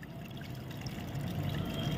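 Water runs steadily from a garden pipe onto potted plants, a soft continuous pouring wash that grows slightly fuller partway through, with no voices.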